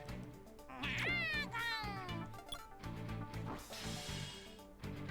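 A cat meows in a few rising, drawn-out cries over a steady backdrop of game music, the calls loud and close, with a brief hissy burst near the end.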